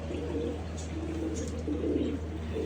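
A pigeon kept by village pigeon fanciers coos in soft, low, repeated rolling calls close by, over a constant background hum.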